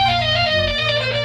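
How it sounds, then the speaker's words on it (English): Flute played through guitar effects pedals, a sustained processed tone with layered harmonics and shifting low drones, continuous and close for a brief moment without any talking. "I am making a course all about flute and guitar pedals."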